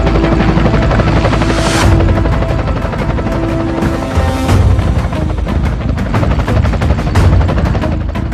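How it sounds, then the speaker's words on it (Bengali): A helicopter arrives over a local area with a loud, close rotor roar and pulsing blade chop that dominates throughout, swelling in a few bursts. "এলাকায় হেলিকপ্টার কে নিয়ে আসলো?"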